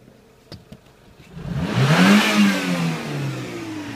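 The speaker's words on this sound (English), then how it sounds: "So I'll snap the throttle open here now." A 2005 Renault Scenic with the K4J 730 petrol engine is snapped open at the throttle, rising sharply from a quiet idle into a loud rev that peaks and then slowly falls back, heard alone up close.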